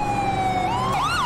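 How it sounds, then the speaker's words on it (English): A police car siren in the video game GTA V, a loud wailing tone sliding down and then sweeping up again in a quick yelp, alone without speech. "I'm going to turn the siren off."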